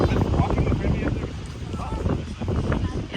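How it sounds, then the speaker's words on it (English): Strong wind buffeting the microphone at the top of a mural-covered tower in northwest Oregon, a steady loud low roar with gusty swells throughout. "It's really windy, so I don't know if you can hear me"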